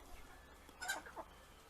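Silver Wyandotte hens in a coop give a couple of brief, soft clucks, faint and close over a quiet background.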